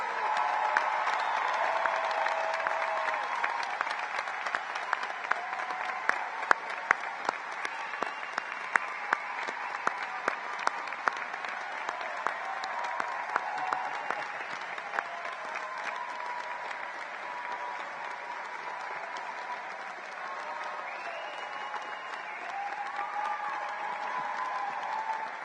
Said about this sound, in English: let's have one more round of applause for